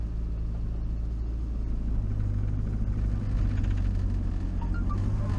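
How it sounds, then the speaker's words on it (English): A 1962 Morris Minor car drives along on a test drive, its engine giving a steady low rumble and hum that stays loud and continuous throughout, with no voices. "so let's go and do this little test ride."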